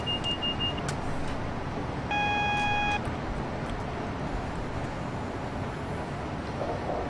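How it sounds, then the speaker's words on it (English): A speed reduction warning alarm sounds in Train Simulator 2016 aboard a Class 90 locomotive on the Great Eastern Main Line: a steady electronic tone lasting about a second over the continuous rumble of the moving train, with a brief higher beep before it. "That's an alarm for the reduction to 80 miles per hour just in front."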